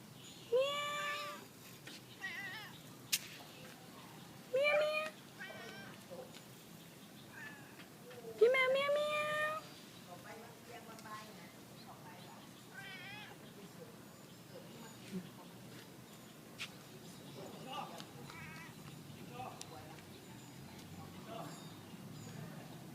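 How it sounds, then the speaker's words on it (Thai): A cat meows several times indoors, short rising and falling calls spread through a long stretch, with people talking softly in between and scattered household clicks and rustles. "พี่แมวเหมียวเหมียว"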